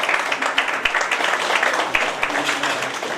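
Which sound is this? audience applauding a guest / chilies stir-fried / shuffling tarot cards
audience applauding a guest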